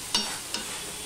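Lentils and spiny gourd are sautéed together in a pan. A soft, steady sizzle runs throughout, broken by two quick spatula scrapes.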